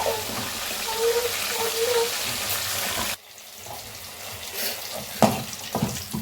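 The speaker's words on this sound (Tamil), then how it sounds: "கருவேப்பிலை போட்டேன். நல்லா அது வதங்கட்டும்." Curry leaves sautéing in oil for a fenugreek kuzhambu, a dense close crackling sizzle that cuts off abruptly partway, followed by quieter clatter and a sharp knock.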